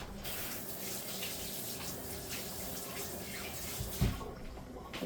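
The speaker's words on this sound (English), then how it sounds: "Let me wash my hands." Tap water runs steadily into a sink while hands are washed beneath it, a continuous close splashing hiss with a brief louder splash near the end, before cookie dough is handled in a home kitchen.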